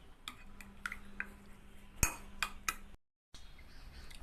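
Egg thoran being stirred with salt in a pan, a spoon clinking and scraping against the metal in scattered light taps, with a brief loud clink midway and a short silent gap near the end.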